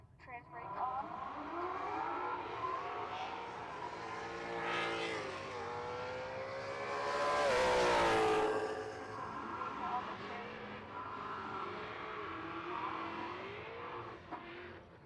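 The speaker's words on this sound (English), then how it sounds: "What a burnout, right?" A 2019 Mustang doing a burnout at a drag strip, its engine revving hard and rising to a loud peak before easing off, with tyre squeal, a long sustained roar under a commentator's voice.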